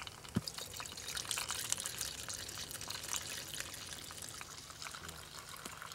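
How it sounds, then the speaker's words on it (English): Water pours steadily through a coffee filter used to strain debris from outdoor water, a continuous soft trickling and splashing close by with a few small drips, no voices. "Without coffee in it, water pours through it real fast."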